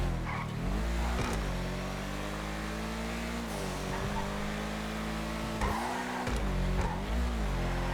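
A Mercedes-Benz concept car in GTA V drives with a steady, loud engine drone that swells and eases as it revs, with brief tire squeals and skids breaking through at a few points.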